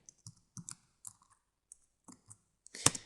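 Fingers type on a computer keyboard: a sparse run of separate, crisp key clicks, fairly close and quiet, ending in one louder clattering stroke, with no voice.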